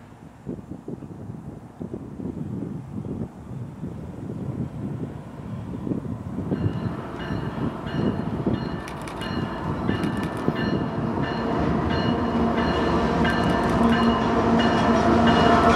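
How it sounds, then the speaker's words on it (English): A long eastbound BNSF intermodal freight train of double-stacked containers rumbles past nearby on Marias Pass, a steady low roar with rhythmic wheel clatter, growing louder as squealing, ringing metallic tones rise over it. "an eastbound intermodal train coming from Seattle with 2 miles of international stacks from Asia"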